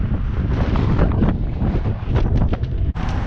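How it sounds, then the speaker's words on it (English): Strong wind buffets the microphone outdoors in Tulsa, Oklahoma, in a loud, continuous low roar with gusty surges and brief dips throughout. "And I know it's a little windy out."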